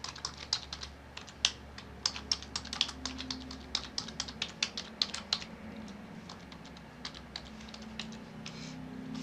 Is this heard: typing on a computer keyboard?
yes